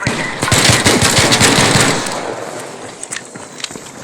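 Gunfire in the video game Arc Raiders, loud rapid bursts of automatic shots clustered in the first two seconds, then fading to a few scattered single shots.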